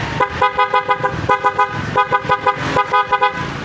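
A loud electric horn on a Honda ADV 160 motorcycle honking in rapid, repeated beeps in quick rhythmic bursts, close and alone.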